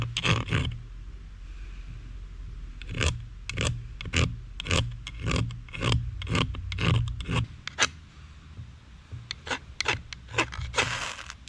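Wood shavings are scraped for a Swedish furnace fire in a run of close, rhythmic rasping strokes, with a pause early on and then quicker repeated scrapes.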